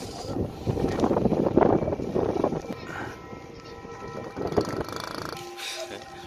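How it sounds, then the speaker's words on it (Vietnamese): Strong wind buffeting the microphone at a kite-flying field, rough gusting rumbles that rise and fall, with a person speaking over parts of it. "Càng ngày gió càng to đấy các bạn nhé"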